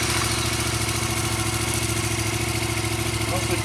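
A Yamaha MT07 motorcycle engine runs at a steady, close idle with a continuous low throbbing rumble throughout.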